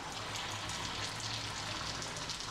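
Chicken rolls of minced chicken stuffed in paratha fry in hot oil, giving a steady, soft, even sizzle with no voices.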